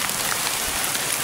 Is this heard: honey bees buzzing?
no